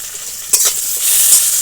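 Prawns with spices and tamarind flowers sizzle loudly in a hot pan, with a brief scrape of a stirring utensil partway through. The hiss continues steadily and close, and no voices are heard.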